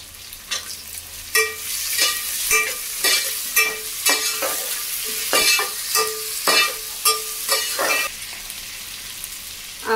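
Potatoes tipped into carrots and other vegetables frying in a pan for a potato, pea and carrot dish, stirred with a spoon; steady scraping strokes and clinks repeat roughly every second over a continuous close sizzle, no voices.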